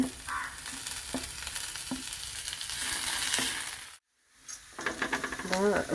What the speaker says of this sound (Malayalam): ഇതിലേക്ക് പച്ചമുളകും കറിവേപ്പിലയും കൂടി ഇടുന്നുണ്ട്